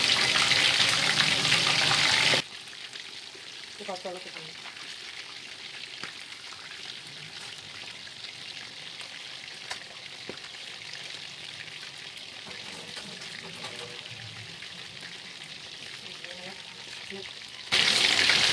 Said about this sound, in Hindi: तो मैं और थोड़ा सा डीप फ्राई करूँगी